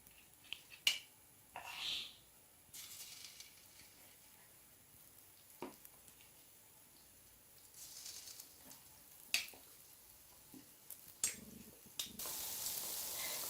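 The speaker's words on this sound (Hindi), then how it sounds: "अब ऑयल गर्म हो चुका है। अब इसके अंदर मैं आलू ऐड करती हूँ।" Potato pakoras coated in gram-flour batter fry quietly in hot oil, with a faint steady sizzle broken by scattered sharp clicks and bubbling pops, heard close with no talking.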